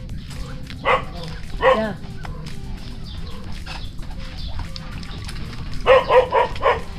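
A dog barks in a few separate bursts, one pair early and a quick cluster near the end, fairly close, with outdoor ambience, a short spoken word and faint bird sounds in between.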